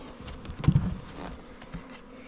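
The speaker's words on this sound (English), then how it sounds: "Man, the wasps though are horrible." Wasps buzz close by around a beehive, a droning insect hum that swells briefly as one passes near, then settles into a lighter, scattered buzzing.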